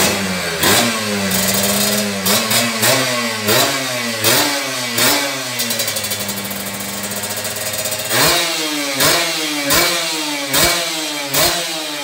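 A 2013 Kawasaki Ninja RR motorcycle engine is revved again and again in sharp bursts, each rising and dropping back between idles. It is loud and close, with no talking.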